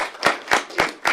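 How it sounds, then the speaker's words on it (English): Four evenly spaced, sharp claps ring out at a city council meeting, close and distinct with short gaps between them and no talking. "we're going to do a round of applause first"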